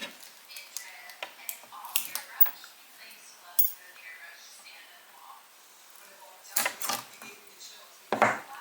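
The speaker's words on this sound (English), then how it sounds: "take a scissors, and you're going to cut." Scissors snip through a plastic adhesive J-channel cable raceway, making a series of sharp, close clicks and crunches in short irregular bursts, with quiet room background between the cuts.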